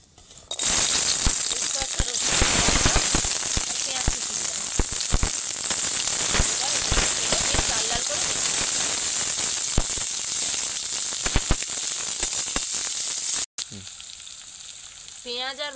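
Onion and garlic fry in hot oil with a dense, continuous crackling sizzle and sporadic pops, close and loud, cutting off abruptly near the end.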